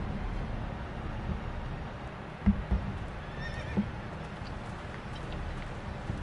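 A horse in a Game of Thrones video game whinnies, with faint hoof clops and a steady patter like rain running underneath.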